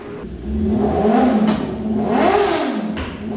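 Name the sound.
V-twin motorcycle engine revving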